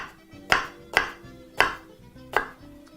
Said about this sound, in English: So proceed by chopping up some red onion.